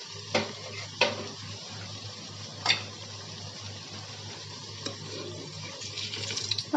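Potato pakoras fry in hot oil with a soft, steady sizzle, broken by a few sharp metallic clinks and scrapes of a utensil against the pan. The sizzle grows busier toward the end.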